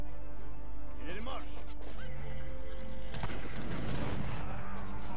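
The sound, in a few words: cannon firing in a video game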